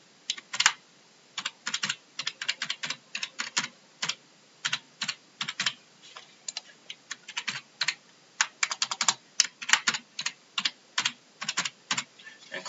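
Quick bursts of keystrokes on a computer keyboard tap out a username and password, crisp and close, in uneven runs of clicks with short pauses between them.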